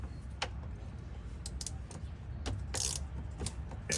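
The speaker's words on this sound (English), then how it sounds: "Drain plug's right there, and all you gotta do is take a standard 3/8 ratchet" A standard 3/8 ratchet works on the oil drain plug of a Ram 3500, with a few sharp metallic clicks and ratcheting ticks spaced irregularly over a low background rumble, close but quiet.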